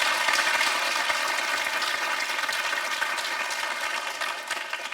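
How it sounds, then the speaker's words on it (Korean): A studio audience at a televised political reform forum applauds in a dense, even wash of sound. The applause is loud and sustained with no distinct claps standing out, and it fades slightly toward the end. "다시 한번 박수 보내드리고요."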